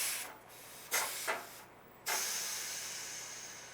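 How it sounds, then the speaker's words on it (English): Hot steam released from a Wolfgang Puck pressure oven, several sharp hissing bursts followed by a sustained hiss that slowly fades, close by with no talk. "these are great to release the pressure because it's going to be hot steam"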